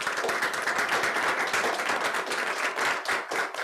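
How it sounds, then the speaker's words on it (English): A round of applause for panelists at a forum on ocean life in Jamaica, brisk and continuous with fast overlapping claps, close and sustained throughout without voices. "So please, a round of applause for our panelists."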